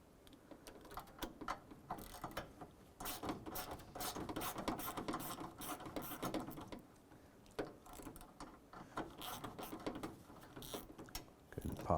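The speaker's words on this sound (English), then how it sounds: "using a swivel on the 1/4" with a shallow 10mm, it's a little bit easier to get that lower bolt" A quarter-inch ratchet with a swivel and shallow 10mm socket loosens a bolt on a 2004-2012 Chevrolet Colorado, giving quick repeated clicking runs in bursts, close but quiet.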